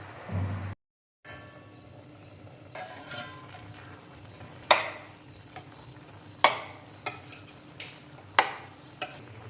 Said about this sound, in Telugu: మధ్యలో ఇలా కలుపుకుంటూ మగ్గించుకోవాలండి.